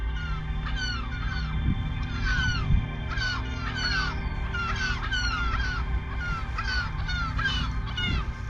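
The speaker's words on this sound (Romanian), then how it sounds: "Mă ceartă păsările." Many crows or similar birds caw and squawk in repeated overlapping harsh calls close by, scolding continuously over a low rumbling wind or outdoor background.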